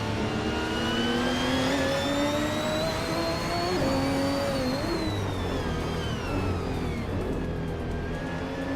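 Race cars dueling nose-to-nose in a racing video game, engines droning loudly and continuously with tones climbing and dipping as they rev and shift.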